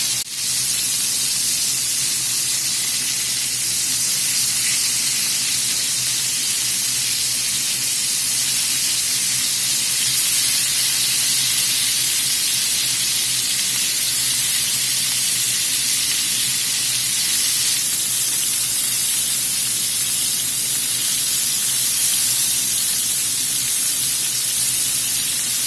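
Beef chunks browning in a pan for boeuf bourguignon, a dense, steady sizzle and spitting hiss that runs loud and unbroken at close range with no voices.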